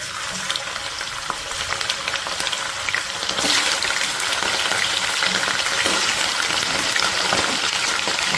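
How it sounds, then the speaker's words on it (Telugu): Washed chicken hitting hot oil in a pan on a low flame, a loud rushing sizzle that swells sharply midway and keeps spitting and crackling close by, with no voices. "ఆయిల్ హీట్ ఎక్కిందండి ఇప్పుడు మనం దీన్ని స్విమ్లో పెట్టుకొని ఆల్రెడీ వాష్ చేసి పెట్టుకున్నటువంటి చికెన్నే యాడ్ చేసుకుందామండి"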